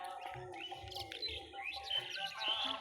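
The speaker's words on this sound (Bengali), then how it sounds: "এক ঝাঁক পাখি, এক ঝাঁক পাখি" A flock of birds chirps and tweets continuously in a rural village setting, many overlapping high calls close by and fairly faint, with no voices.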